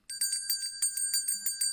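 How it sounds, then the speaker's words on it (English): A bicycle-style bell rings in a quick series of bright, tinkling strikes, roughly a dozen in under two seconds, close and clear with no talking. "Give me some bell sound."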